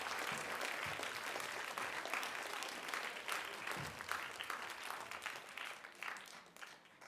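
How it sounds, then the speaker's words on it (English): An audience at a middle school spelling bee claps for a contestant, a continuous crackle of many hands heard fairly quietly and at some distance, thinning slightly toward the end. "Everyone, please let's give Ella a round of applause."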